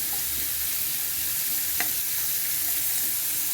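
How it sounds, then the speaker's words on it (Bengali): Round slices of bitter gourd frying in oil, a dense, even sizzle carrying on throughout, with one brief utensil knock in the middle and no voices. "আর এখানটাতে উচ্ছে একটু ভাজা করছি"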